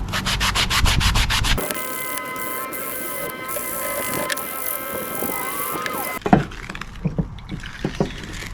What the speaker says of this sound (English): I'm going to use this coarse sanding block to improve this finish further and get back to bright metal